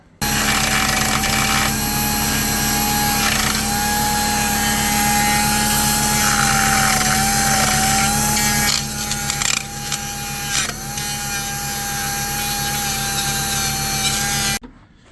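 A rotary cutting tool trims the plastic air box of a Range Rover Classic with an M57 engine, a loud, steady high whine running nearly fifteen seconds with slight pitch wavers and a brief dip partway through.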